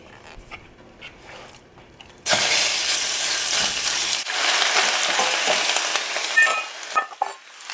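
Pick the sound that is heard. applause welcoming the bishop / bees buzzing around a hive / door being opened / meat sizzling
meat sizzling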